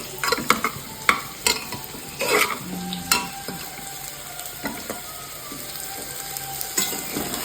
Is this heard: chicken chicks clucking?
no